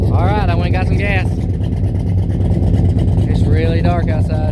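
A 1971 Chevrolet El Camino's engine runs at a rough, loud idle with a bad exhaust leak, throttle unhooked, at night outdoors; the low rumble is continuous while a person talks over it twice.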